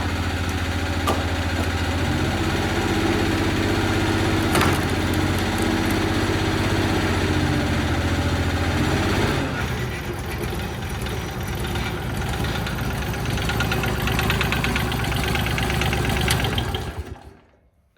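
Small engine of a homemade vertical log splitter runs rough below full throttle, a loud, steady knocking drone close by that shifts partway through and cuts off abruptly at the end.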